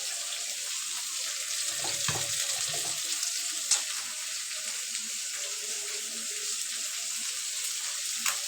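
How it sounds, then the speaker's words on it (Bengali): Fish fries in a hot pan with a steady, even hiss that holds throughout, close by and moderately loud, with a few faint knocks and no talking. "আর এখানে হচ্ছে মাছ ভাজ দিচ্ছি।"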